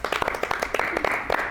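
Audience applause at a church gathering, a short burst of fast, dense clapping from several people close by, heard alone without talk.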